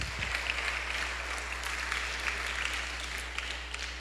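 A congregation at a church sermon breaks into sustained applause, a thick wash of many hands clapping at a steady level, with a low hum running underneath and no talking.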